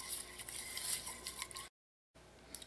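A spoon stirs parsley flakes into melted butter in a bowl, giving soft, continuous scraping and light clinks at close range, broken by a brief silent gap before the stirring resumes.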